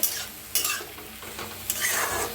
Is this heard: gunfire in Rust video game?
no